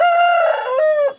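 An Aseel rooster at the Balrampur poultry market in West Bengal gives one loud, close crow, a drawn-out tonal call that dips and then rises before cutting off.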